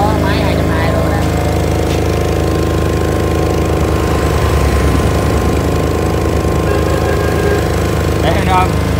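A Shindaiwa 2.4 kW soundproofed diesel generator runs steadily with a loud, continuous low engine drone, someone talking over it now and then.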